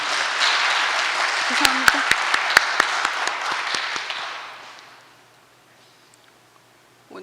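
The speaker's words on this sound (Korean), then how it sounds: "이럴 때 박수 한번 치는 겁니다." Church congregation applauding at a founding worship service, a dense broad round of clapping that swells for about four seconds then fades to quiet, with a voice speaking briefly over it.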